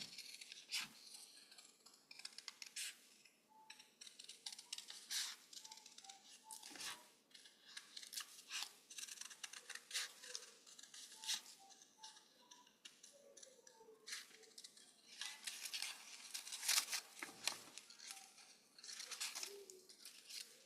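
Scissors snip and trim a paper craft piece for a fall hedgehog project, a series of close, crisp cuts in uneven bursts with small handling rustles between them and no talking.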